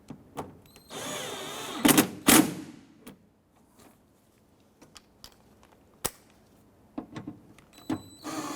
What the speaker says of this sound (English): I'm going to go ahead and tighten them down.